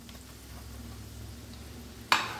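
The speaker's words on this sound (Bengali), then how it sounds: "বাদামটা ভাজা হয়ে গেছে কিশমিশগুলো ফুলে উঠেছে এখন আমি কি করব সুজিটা এর মধ্যে অ্যাড করে দেবো" Semolina is tipped into a pan of ghee with fried nuts and plumped raisins for mohonbhog. A quiet, low simmer suddenly flares into a sharp, loud sizzle near the end.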